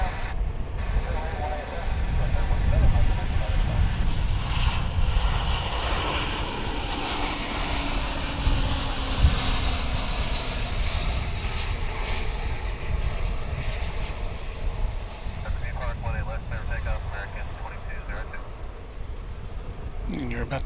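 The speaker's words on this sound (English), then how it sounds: "Wasting no time is American Airlines Flight 393 off to Mexico City." American Airlines Flight 393 departs DFW International Airport for Mexico City, engine roar swelling early then sustaining with whining tones and slowly fading, while voices talk over it.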